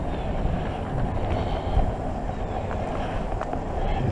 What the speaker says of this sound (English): Ooh, kind of breezy out today.